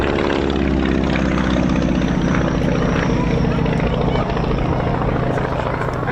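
A vintage Beechcraft Staggerwing propeller aircraft at an airshow runs with a loud, steady, close engine drone and rhythmic prop beat throughout, with a voice talking over it.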